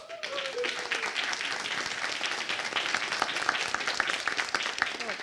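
A large audience at a launch event bursts into sustained applause, dense clapping spread across the room for several seconds, with some faint voices mixed in.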